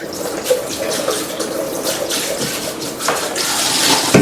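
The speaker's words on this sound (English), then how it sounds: "Just rinse it out with a bit of soap." Tap water runs steadily into and over a Vitamix blender container as it is rinsed out, a continuous close splashing wash with no talk.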